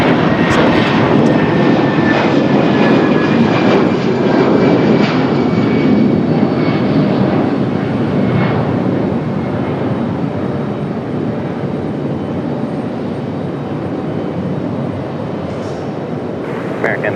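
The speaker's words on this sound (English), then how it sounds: "This A319 gonna give us an early rotation." An Airbus A319 takes off at Raleigh-Durham International Airport with a loud, close engine roar that starts at full strength and slowly eases as it climbs away.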